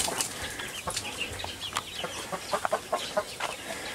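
Chickens clucking in a pen, a scatter of short, sharp clucks and calls from several birds over steady background noise, with occasional wing flaps.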